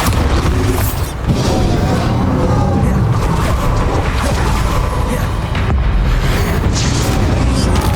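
Loud, dense booming blasts from a Bombarda spell and other combat magic in Hogwarts Legacy, continuous and heavy throughout with a brief lull near the start.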